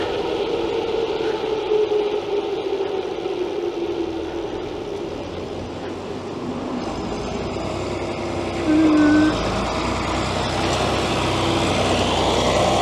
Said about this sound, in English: Nice tractor.